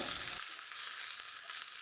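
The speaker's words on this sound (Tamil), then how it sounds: "எண்ணெய் சூடாகிடுச்சு இது கூட தாளிக்க அரை டீஸ்பூன் கடுகு கடுகு பொரியது" Mustard seeds, dried red chillies and curry leaves fry in hot oil for a Tamil gooseberry rasam tempering, a close, steady crackling sizzle with small pops throughout, no voices.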